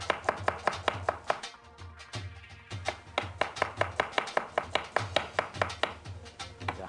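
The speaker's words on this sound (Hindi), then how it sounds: "ये जो 2 प्याज रखे थे इनको स्लाइस कर लेते हैं फटाफट" Two onions being sliced quickly with a knife on a cutting board while cooking pudina gosht: rapid, steady chopping thuds in a fast rhythm with one brief pause, close and clear, with no talk.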